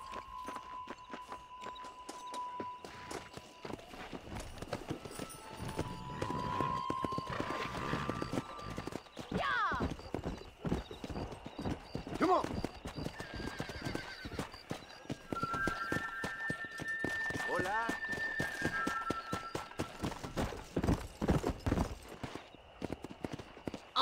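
Horses galloping in the Western video game Red Dead Redemption, rapid clip-clop hoofbeats that keep on steadily with an occasional whinny, together with steady background music and characters talking over them.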